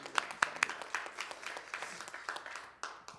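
A Baptist church congregation claps during a live worship service, starting with a few sharp, close claps before settling into a softer, steady round of applause.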